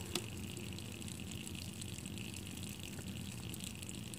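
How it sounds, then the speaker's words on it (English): Quiet, steady rushing and gurgling of water draining out of a faulty hot water cylinder, constant throughout with no voices. "That's the water draining out this cylinder"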